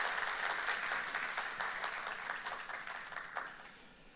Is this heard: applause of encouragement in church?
yes